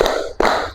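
A single sharp clap from a classroom clapping exercise lands just before mid-clip, brief and distinct against a soft background hum.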